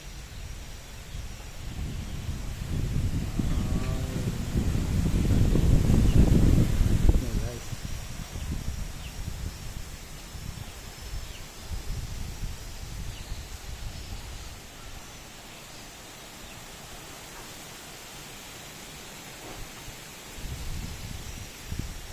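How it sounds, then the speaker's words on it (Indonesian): Strong wind blows through trees, with a steady roaring and rustling of leaves that swells loudly for a few seconds before easing to a continuous gusty rush, close to the microphone and buffeting it. "melihat anginnya, katanya kok kencang sekali"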